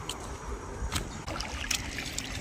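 River water flowing and lapping around someone bathing outdoors in a village river, a steady low rushing wash with brief splashes, fairly close, with no speech.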